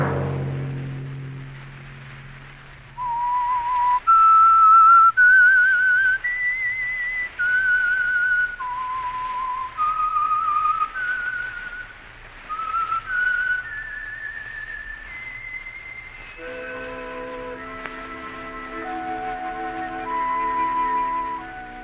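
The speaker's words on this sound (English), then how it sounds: "Let that whistle be your signal for the Signal Oil program, The Whistler" A lone whistler carries the eerie, wandering theme melody of The Whistler radio mystery program, with clear sustained notes rising and falling over a faint hum.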